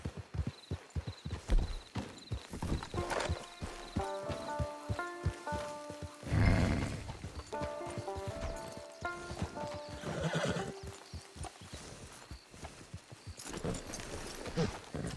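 In the video game Red Dead Redemption 2, a horse whinnies loudly partway through while steady clip-clop hoofbeats continue throughout, over a soft musical backdrop.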